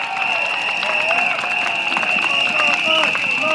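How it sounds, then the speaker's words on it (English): A large crowd claps and cheers steadily at a People's Action Party election rally for Tampines GRC during Singapore's 2025 general election, with dense, continuous applause and a faint sustained tone running through it. "Let's give a round of applause to all our seniors in our estates."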